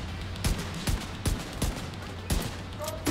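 Pistol gunfire in The Division 2: half a dozen sharp, loud shots in an irregular rhythm, each with a short booming tail over low game background noise.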